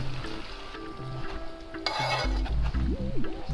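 Garlic and broccoli fry in a pan with a steady sizzle while a utensil stirs and clinks against the pan, close and continuous, with several faint tonal beeps over the cooking.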